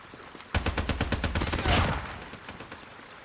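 A rapid burst of automatic gunfire from the mobile shooter Call of Duty Mobile, roughly a dozen close, punchy shots in quick rhythm, ending in a louder blast that fades out.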